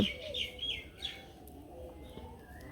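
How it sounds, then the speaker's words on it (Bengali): Faint bird calls, soft cooing notes and chirps, rise over a quiet outdoor background, scattered and fairly distant. "এর পাশে ঘুঘু পাখিতে ডাকতেছে"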